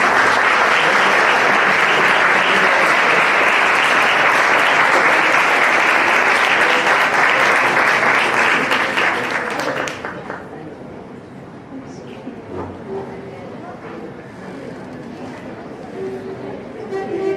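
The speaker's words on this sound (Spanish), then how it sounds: "Un aplauso por favor para los consejeros." A conference audience gives the councillors a loud, dense round of applause for about ten seconds, then it cuts off into quiet murmuring and scattered room noise.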